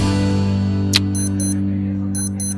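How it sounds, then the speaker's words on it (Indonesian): A Casio F91W digital wristwatch sounds its alarm in short high-pitched double beeps, repeated in a quick steady pattern over a loud constant low hum, with a brief click partway through. "Kemudian ada fitur alarm lengkap dengan hourly signal, dan ini suara alarmnya guys"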